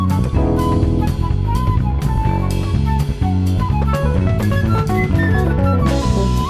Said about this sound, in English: So what you're hearing is flute on this